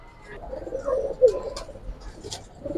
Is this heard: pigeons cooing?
yes